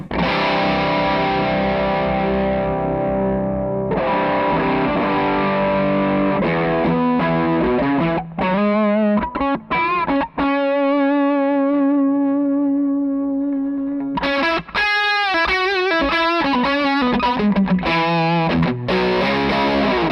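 An electric guitar played through a high-gain Butcher distortion pedal gives thick, saturated chords and sustained notes, with chugging palm-muted bursts and ringing held tones alone, no talking.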